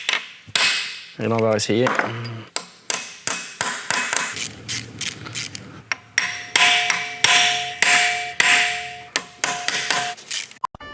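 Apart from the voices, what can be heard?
chisel hammered on seized water pump screws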